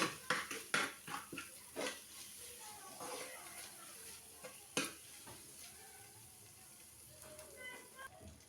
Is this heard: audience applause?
no